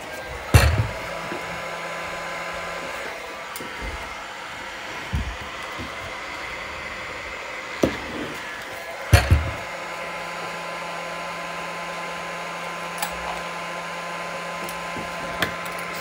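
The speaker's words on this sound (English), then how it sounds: "And I take the heat gun." A heat gun blows hot air on a Nintendo Switch during a charging port replacement, a steady close whooshing hum throughout, interrupted by a few sharp clicks and taps.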